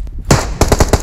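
Gunfire in the mobile battle royale game PUBG Mobile: one sharp shot followed by a quick burst of about four automatic rounds, loud and close, with no talk over it.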